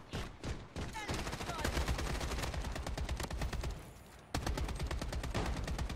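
An AK rifle fires in long rapid automatic streams in the shooter Project Bloodstrike, loud and dense, with a brief pause before the firing resumes.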